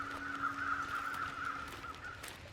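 Crows caw faintly in the snowy wilderness of the video game The Long Dark, the calls thin and distant over a steady whistling wind-like tone.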